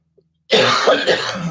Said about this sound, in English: Put me into a coughing fit.